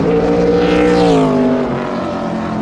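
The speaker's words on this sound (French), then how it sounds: "la voiture arrive. Le son, écoutez." A race car comes in on a track, its engine a loud, steady roar that builds slightly and then eases as it nears, with no voices over it.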